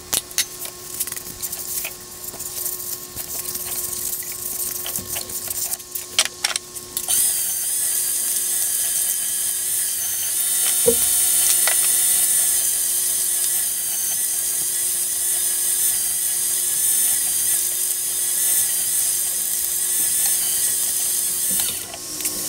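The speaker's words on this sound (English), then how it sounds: "so let's get this sanded" Power sanding of an ambrosia maple wooden bowl, a steady high-pitched whirring drone with a rattling texture that grows louder and steadier partway through, running continuously without speech.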